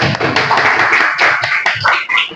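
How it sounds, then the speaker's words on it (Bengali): Students in a classroom clap their hands, a short burst of quick, close, uneven clapping from a small group that lasts a couple of seconds. "সবাই হাততালি দাও।"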